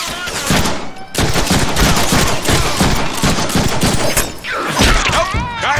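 Dense automatic gunfire rattles almost without a break in the Deadpool video game. The bursts are loud, close and heavy, with brief gaps and some whooshing effects near the end.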